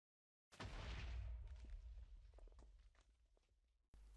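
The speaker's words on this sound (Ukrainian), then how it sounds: "Ось так виглядає вибух в сучасному майні." A single loud blocky explosion in the video game Minecraft bursts suddenly, a deep booming blast with crackling debris that fades over a few seconds.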